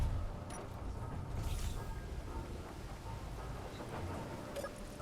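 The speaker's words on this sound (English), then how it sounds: "It's starting to rain, people. It is starting to rain." Steady rain with low thunder rumble in Space Engineers at night, a continuous soft hiss without talk.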